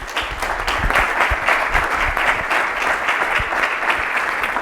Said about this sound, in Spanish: Le damos la bienvenida a Amos con este fuerte aplauso.